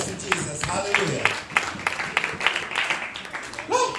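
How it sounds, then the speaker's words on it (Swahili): A church congregation clapping for Jesus, with rhythmic hand claps of steady beat and a voice speaking over them near the end. "Pigia Bwana Yesu makofi"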